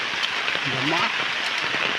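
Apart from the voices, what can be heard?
rain falling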